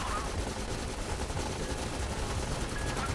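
Continuous gunfire and machine-gun bursts in the strategy game Reconquest during an urban battle, a dense steady rattle with no clear gaps between shots.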